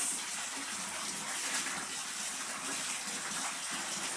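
Tap water gushes steadily into a bowl on a laundry day, a continuous close hiss and splash with no break over a few seconds.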